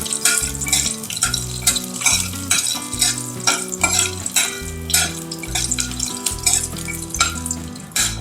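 Whole cashews roasting in ghee in a pan for sweet poha, with steady stirring and scraping clatter of a spoon against the pan over a soft frying hiss, loud and close.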